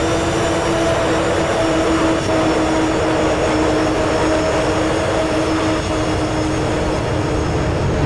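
Avro Vulcan B2 jet engines roaring steadily as the aircraft climbs after gear-up in Microsoft Flight Simulator, a loud continuous whine and rumble with no talking.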